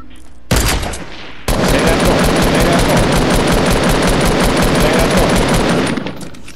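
Rapid sustained automatic gunfire in a shooter video game, loud and close, starting with a brief burst then a continuous stream of shots for several seconds before tapering off.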